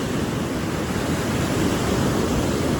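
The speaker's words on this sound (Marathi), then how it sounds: "लाटा बघा खूप मोठे मोठे लाट आहेत" Loud, continuous roar of heavy ocean surf at Devgad beach, Sindhudurg, during heavy rain, a dense wash of crashing waves with no pauses and no voices.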